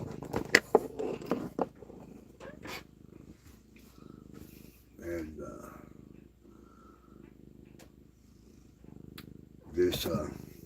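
A house cat purrs softly and steadily in a quiet room, with a few louder rustles and a person speaking quietly at times.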